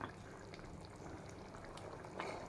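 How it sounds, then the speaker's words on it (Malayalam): A pan of rajma curry simmers and thickens, giving a faint, steady bubbling with small pops and no voices. "നല്ല തിളച്ച് കുറുകി വന്നിട്ടുണ്ട്."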